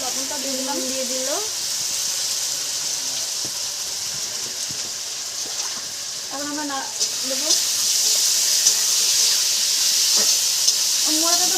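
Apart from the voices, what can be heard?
spiced fish frying in hot oil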